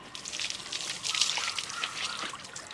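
Water poured over a dog during a bath, a steady close splashing trickle that runs without a break for the whole stretch, with no talking.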